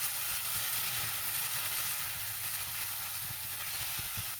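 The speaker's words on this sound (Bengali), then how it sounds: "এলাচের গুঁড়া দিয়ে খুব ভালো করে মিশিয়ে নেব।" Apple coconut barfi mixture with cardamom powder stirred in a pan over the stove, giving a soft steady sizzle and hiss with faint scraping of the spoon.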